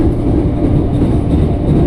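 An eight-car KRL commuter train at Manggarai station in Jakarta gives a low, steady rumble of rolling wheels and running gear, close and continuous, with no voices.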